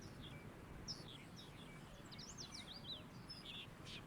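Finches among cactus trees and bushes give faint, quick, high chirps and short trills, scattered over a low steady background hum with no voices.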